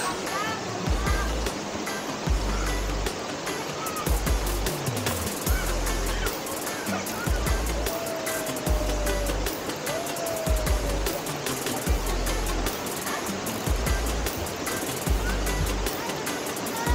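Water pours and rushes steadily at an outdoor falls where local children bathe and wash laundry. The broadband splash stays close and continuous, with a few faint voices and brief tonal sounds in the background.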